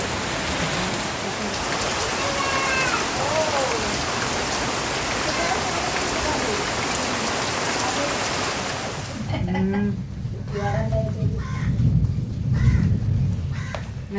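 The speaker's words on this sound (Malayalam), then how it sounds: "നല്ല മഴ കേട്ടോ, നല്ല ഇടിയും നല്ല മഴയും" Steady heavy rain pours down in a dense hiss, then eases into a rumbling, closer patter with deep thunder-like booms and a crow calling faintly.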